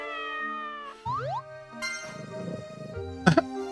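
A cat in the farming video game Grand Bazaar gives several bright, cartoonish meows, close and clear, mixed with short plopping and bouncy game effects.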